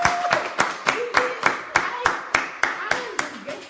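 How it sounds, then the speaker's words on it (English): A small group of people clap together in a steady, rhythmic beat, about three claps per second, loud and close, with a voice calling out over the first few claps. "Clap for yourself."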